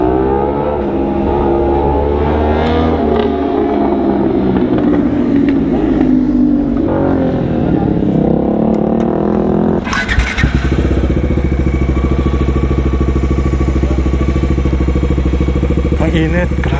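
A motorcycle engine idles and runs steadily at a Bajaj Dominar riders' night meet-up, loud and close throughout. Its tone shifts about midway as a different bike takes over, and people talk over the engine noise.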